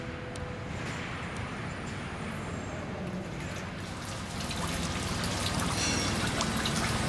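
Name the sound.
pouring mortar of cement, sand and water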